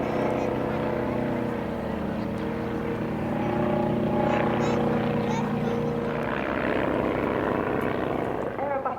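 A Taylor monoplane drones past at an air display, its steady propeller engine hum swelling slightly in the middle and continuing throughout under a commentator's voice.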